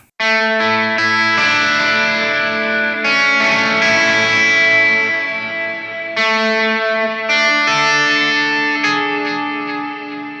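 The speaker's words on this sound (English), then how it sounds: "I'm gonna go back to something simpler like a tape delay. Reverb. Let's turn this on." Sustained electric guitar chords through a Donner Arena 2000 multi-effects unit ringing out with a wash of reverb and repeating tape delay echoes trailing each strum, loud and continuous with no voices.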